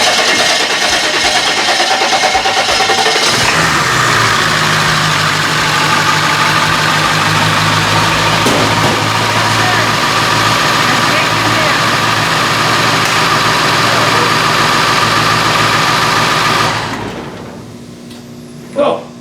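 A 7.3 Powerstroke diesel engine swapped into a Toyota Hilux runs loud and close with a rough, steady clatter for about sixteen seconds before shutting down, a brief thump following in the quiet.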